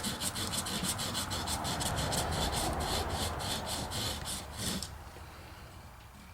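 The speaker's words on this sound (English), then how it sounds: "I'm taking some 180 grit and I'm gonna find that burr there and I'm gonna just sand on top of that thing." Rapid back-and-forth rasping of 180 grit sandpaper rubbing down a burr on a transfer case part, close and steady, then easing off near the end.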